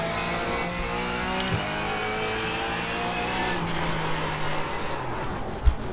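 Race car engine in a sim racing video game, droning steadily and loud with shifting pitch through gear changes and cornering, a faint tire squeal, and no talking.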